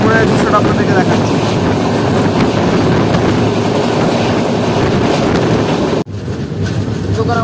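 Bolpur Shantiniketan Express number 12337 crosses from the main line onto a buffer line, a loud continuous rumble with rail clatter from on board that briefly cuts out near the end.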